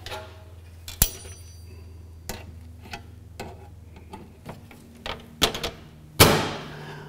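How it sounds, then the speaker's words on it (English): Plastic clicks and snaps as the door of an AprilAire 4897 air cleaner is fitted back into place, a run of irregular close taps and latches that ends in one louder clunk, with no talk. "Now we'll put the door back on."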